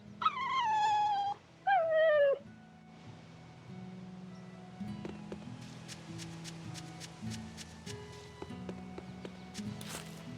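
A cat in the Tales of Berseria video game gives two clear, drawn-out meows in quick succession, followed by soft, busy game sounds with light tapping and clip-clop-like steps.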